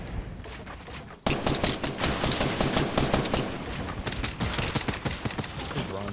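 Rapid automatic gunfire in Fortnite from players shooting from under the map in Tilted Towers, bursting in loudly after a brief quieter lead-in and then running as sustained rattling volleys.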